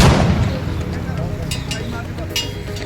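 A Royal Enfield Bullet motorcycle with a modified silencer, stopped at a police check, lets out a loud burst like a firecracker at the start, followed by a fading rumble and a few faint cracks.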